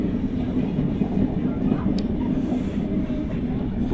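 A long train in motion near Pune, a steady low rumble and rolling wheel noise heard from onboard, continuous and even, with faint clicks.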